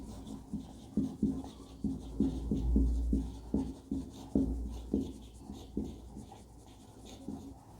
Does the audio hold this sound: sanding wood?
no